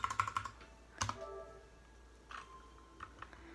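Keys on a Royal Kludge 60% keyboard click in short quick bursts, a cluster of taps, a pause, then a few scattered presses, faint and close with no talking.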